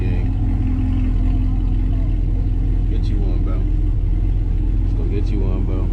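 A manual Chevrolet Camaro SS 1LE rumbles along on the road, its deep engine drone steady and close beneath someone talking.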